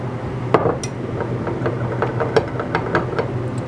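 A whisk stirs mold-making mixture for fishing-lure molds in a container, giving a handful of sharp, irregular metallic clinks and taps over a steady low background hum.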